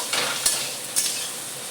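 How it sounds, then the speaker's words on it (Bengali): Onions sizzle steadily in a hot pan for a spicy chili chicken, with two sharp stirring scrapes standing out above the soft, continuous frying hiss. "পেঁয়াজগুলো ভাজা ভাজা হয়ে গেছে"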